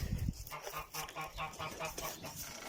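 A chicken clucks in a steady run of short, rhythmic calls, moderately close, with a brief louder sound at the start.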